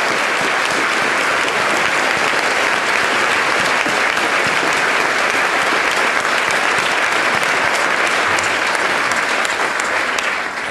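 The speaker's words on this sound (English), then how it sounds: "One last round of applause for our guests today, please." Sustained, dense audience applause fills a hall for panel guests at a public forum on the Enlightenment, loud and steady throughout with no speech over it.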